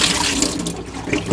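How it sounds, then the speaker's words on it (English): Water from a pot of potatoes pours into a kitchen sink, a steady close splashing rush that continues throughout the short moment. "Drain the water."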